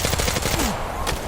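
Rapid bursts of gunfire from the Tactical Assault VR shooter game ring out loud and close in a quick rhythmic string across the first half, then taper into a quieter tail.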